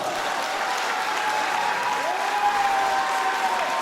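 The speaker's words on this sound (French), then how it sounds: "c'est comme ça que vous applaudissez" A concert crowd at a breast cancer charity evening gives sustained applause, a dense, even roar of clapping hands filling the room with a faint tonal sound running under it.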